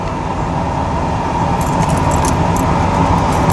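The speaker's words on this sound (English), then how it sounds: "the idle isn't always perfectly stable" Engine of a 1991 Ford F-150 idling unevenly, a loud, steady close-up drone with a light metallic jingle of keys over the second half.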